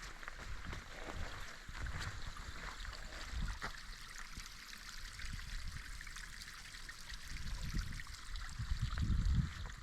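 A small stream of water trickles steadily at a trail water crossing outdoors, a continuous soft babble with some low rumbles and handling bumps toward the end.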